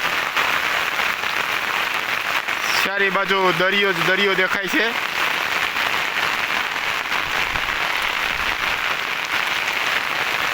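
Heavy, continuous monsoon downpour in Mangrol taluka, Junagadh district, a steady dense hiss of rain that runs loud through the whole stretch, with someone briefly speaking over it for a couple of seconds.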